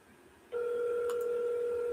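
A telephone ringback tone sounds steadily after a brief quiet start while a call rings out, a continuous electronic tone that holds on without breaks.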